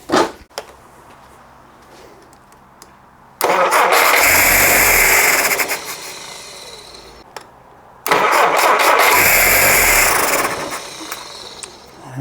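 A Jeep CJ5 under rebuild, turning over on its first start attempt with its fuel supply failing, cranks loudly in two long bursts separated by quiet pauses, each burst fading without the engine catching.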